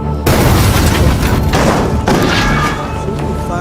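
Heavy, loud booming tank shell explosions with rumbling, crackling tails, one after another, densely layered like a battle scene.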